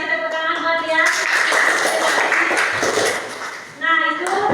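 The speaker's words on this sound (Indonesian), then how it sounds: "Ya, kasih tepuk tangan buat dia." A classroom of students claps for a classmate, a short burst of mixed applause between bits of a teacher's talk at the start and end.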